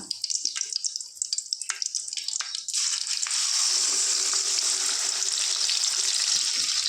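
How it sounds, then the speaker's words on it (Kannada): A crushed paste of garlic, green chili and tomato goes into hot oil for a North Karnataka moong and dill stir-fry. A few clattering taps and drips give way to a sudden loud, close, continuous sizzle with no talking. "ಇದೆಲ್ಲನೂ ಹಸಿ ವಾಸನೆ ಹೋಗೋವರೆಗೂ ಚೆನ್ನಾಗಿ ಫ್ರೈ ಮಾಡ್ಕೋಬೇಕು"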